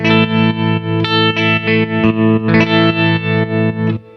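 Distorted electric guitar through a vintage Fender amp's tremolo sustains a chord while its volume pulses in a steady, fast wobble, about three throbs per second, loud and without talk.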